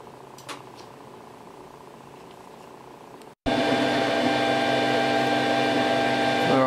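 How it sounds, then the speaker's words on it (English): A 3D printer printing a replacement part for a broken door lock on a D40 Navara. It starts up abruptly after a quiet stretch and then runs as a loud, steady mechanical hum with a constant whine. "Just a little shot of the 3D printer running."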